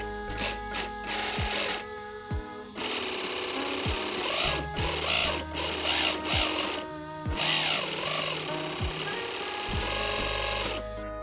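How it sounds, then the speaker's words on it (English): Motor-driven 3D-printed plastic bevel gears turn in a small bracket, giving a steady whirring drone with repeated rubbing, clicking rises and dips, plus sharp ticks every second or so, running close and alone for about eleven seconds. "Behind the scene, I've added a small bracket and a connection to the motor, so let's print it and test it in real life."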